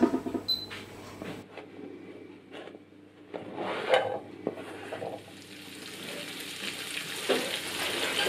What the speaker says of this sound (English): I've got a frying pan on medium heat and a big lump of butter, and we're just going to melt that